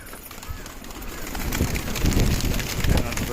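Pigeons coo softly while being fed, the low murmuring calls mixed with light shuffling and movement, growing somewhat louder toward the end.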